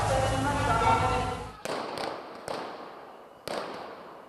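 Loud crackling burst of fireworks fired by protesters in Tbilisi, Georgia, followed by three sharp bangs at irregular intervals, echoing outdoors.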